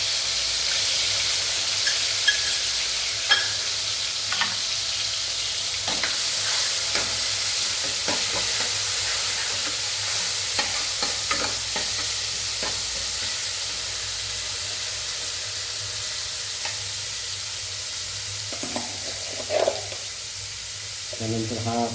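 Ginger, garlic and coriander paste fries in hot oil, giving a steady hissing sizzle with scattered pops and occasional stirring clatter, fairly quiet and unbroken by speech across its length.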